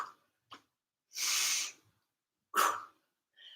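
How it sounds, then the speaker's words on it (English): Deliberate breaths during a plank press exercise come as short nasal puffs followed by two longer, forceful hissing exhales, close and separated by silence, with no speech. "I'm making it deliberate with the breath. Breathe in, exhale up."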